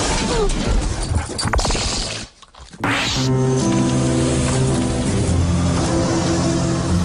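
A dog crashes through a glass house door in a TV advert: mechanical clatter and a shattering smash, a short near-silent gap, then sustained tonal music-like sound with no speech.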